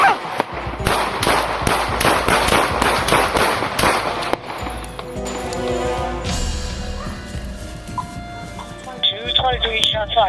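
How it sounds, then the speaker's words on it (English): Gunshots ring out during a police confrontation, a rapid burst of loud, sharp reports in the first few seconds, followed by shouting and radio chatter. "Shots fired."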